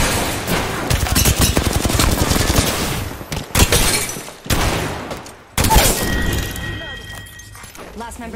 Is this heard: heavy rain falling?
no